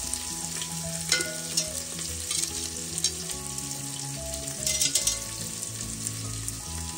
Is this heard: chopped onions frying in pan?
yes